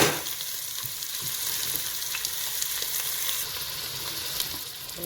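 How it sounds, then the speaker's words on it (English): Onions fry with garlic and ginger in a pan, a steady bright sizzle that holds evenly throughout with faint stirring, close and fairly quiet. "And now I put the onions."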